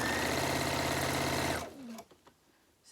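A sewing machine runs fast and loud, straight-stitching bias tape binding onto a peg bag, then stops abruptly after about a second and a half, leaving faint handling sounds of the fabric.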